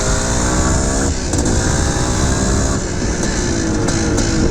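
A 1979 Suzuki RM400 big-bore two-stroke motorcycle engine roars loudly and close, its pitch rising and falling through repeated revving sweeps over a dense, buzzy drone.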